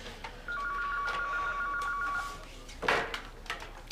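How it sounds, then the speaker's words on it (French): A telephone rings in an office, a single electronic trill lasting about two seconds, heard clearly but not loud over background room noise and rustling. "va répondre au téléphone"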